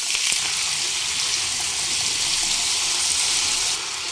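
Drained, cut potatoes hit hot mustard oil tempered with black cumin and sizzle in a steady, loud, close hiss that carries on without a break, easing slightly at the very end, with no talking.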